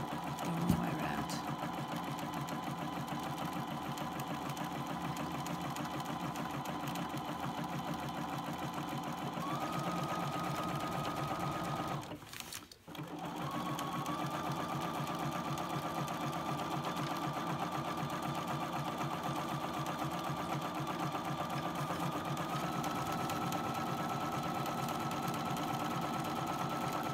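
A sewing machine runs a zigzag stitch around the seam allowance of a hat brim toile, a steady, close mechanical whir held for nearly half a minute with one brief pause midway.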